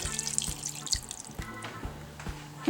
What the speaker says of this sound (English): I'm just going to go ahead and add 2 cups of water